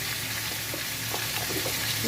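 Turmeric sizzles steadily in hot oil in a pan while a curry of rui fish roe with gram flour is being made, a continuous close frying hiss with no talking.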